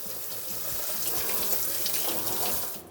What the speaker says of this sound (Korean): 찬물에 이렇게 잽싸게 식혀주세요.